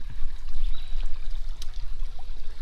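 Shallow creek water flows and trickles steadily where a leaf has been tossed in during outdoor gold prospecting, with a continuous close babble and faint splashes.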